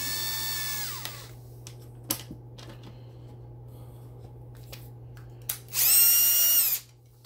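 A power drill unscrews screws from a Bissell ProHeat Essential carpet cleaner, giving a short whining burst at the start and another near the end, with faint clicks and handling noises between them and no speech.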